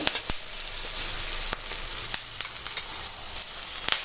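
Beef korma pieces frying in spice masala in a pan, a steady loud sizzle with scattered crackles and the occasional scrape of stirring throughout.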